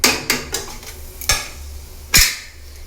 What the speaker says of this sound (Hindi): मैं मसाले को कर लेती हूँ फ्राई।